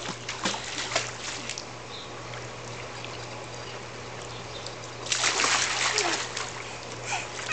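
A child splashing while swimming in a pool, light sloshing that swells into a burst of vigorous splashing, with background murmurs.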